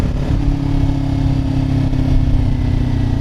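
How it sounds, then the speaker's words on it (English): A motorcycle engine idles and rumbles steadily up close while gears are downshifted, a constant low drone with slight swells in throttle and no talk. "Close the throttle, release the clutch, kick down, give it some gas and slowly close the clutch."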